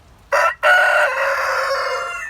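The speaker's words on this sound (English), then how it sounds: "and yesterday he got in a fight with Robert, the white cockerel." A white cockerel crows once, loud and close: a short first note, a brief break, then a long drawn-out call that slowly fades.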